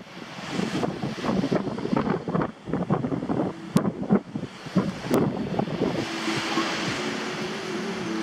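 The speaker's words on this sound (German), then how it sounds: "Es ist gerade ziemlich windig im Moment." Gusty wind on a beach buffets the microphone in loud, uneven rumbles, with the wash of surf underneath and a steady broad rush taking over toward the end.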